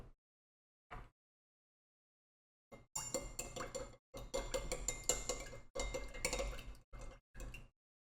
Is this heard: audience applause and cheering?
no